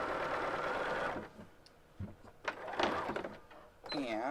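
A sewing machine stitches a quilt seam with a quarter-inch foot, running steadily for about a second, then pausing for short stop-start bursts of stitching and a final quick run, with faint voice-like sounds in between.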